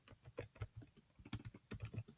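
Quick, light clicks of typing on a computer keyboard while writing HTML code, an irregular stream of keystrokes, faint and close, with no voices.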